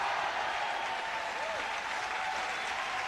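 A crowd at a squash match applauds steadily, a dense continuous clatter of clapping heard throughout, with a commentator's voice faintly over it.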